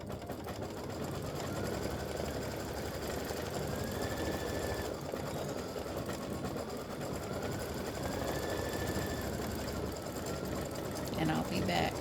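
A computerized embroidery machine stitches a football turkey's feet onto a mug rug with a steady, fast mechanical hum and chatter that carries through the whole stretch, close and even.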